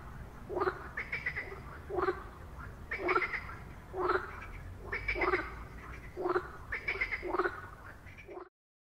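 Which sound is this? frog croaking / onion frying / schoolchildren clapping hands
frog croaking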